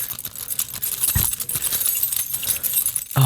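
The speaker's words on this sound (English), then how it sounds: "there's the keys." Keys jangling close by in a few uneven bursts of bright metallic clinks, with a sharper rattle near the end and no talk.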